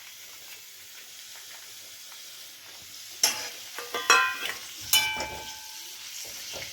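Onion, ginger, garlic, green chili and tomato are stirred in a hot pan for cauliflower curry. A soft sizzle sits under a few sharp spoon scrapes and clinks in the latter half, heard up close.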